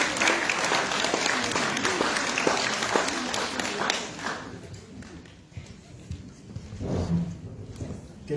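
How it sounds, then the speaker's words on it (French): An audience at a cultural evening in Villeurbanne applauds with sustained, full clapping that gradually thins and fades out, followed by a few stray claps and faint room noise. "on peut d'ores et déjà les applaudir"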